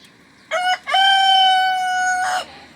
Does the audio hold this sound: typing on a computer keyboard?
no